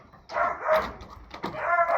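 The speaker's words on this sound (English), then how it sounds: "I don't know what he's barking at." A farm puppy barks in two short bursts, each a cluster of sharp, close yips with a brief quiet gap between them and no talking over it.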